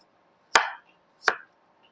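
Knife chopping a peeled whole potato into small pieces on a board: two crisp, separate close chops in otherwise near silence.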